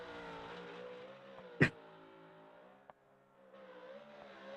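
Sim racing game race car engine held at full throttle, a steady droning tone that shifts slightly in pitch, with a sharp click-like burst partway through and a brief dip before the engine note returns.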